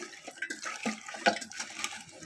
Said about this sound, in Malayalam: കുറച്ച് വെള്ളം എടുത്തിട്ട് ഒഴിച്ച് വയ്ക്കുക